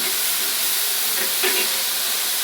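Onion, green chili, ginger and curry leaves sizzle as they sauté in hot oil, a loud continuous hiss with faint scraping touches partway through.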